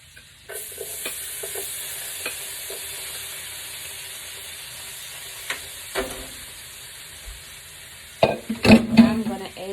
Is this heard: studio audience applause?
no